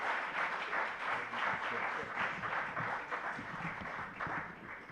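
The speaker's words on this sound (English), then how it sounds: "please, a round of applause for both of our candidates, Dan Rayfield and Will Lathrop" An audience at a City Club of Eugene debate between attorney general candidates applauds throughout, a moderate, continuous patter of many hands clapping with slight swells.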